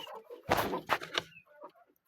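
Chukar partridges in a coop at night give a few short, close clucking calls, three distinct bursts in quick succession followed by softer, fainter chatter.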